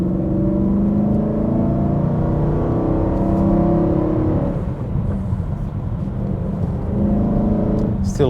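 A freshly rebuilt engine in a BMW E92 M3 pulling under acceleration from inside the car, a loud steady drone with rising harmonic tones that ease off toward the end; a voice speaks briefly in the background.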